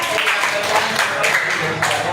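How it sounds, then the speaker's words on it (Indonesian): Primary school pupils in a classroom applaud a presenting group, a continuous, fairly loud clatter of many hands with faint voices mixed in. "kita beri tepuk tangan untuk kelompok 2"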